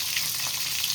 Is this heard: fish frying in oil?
yes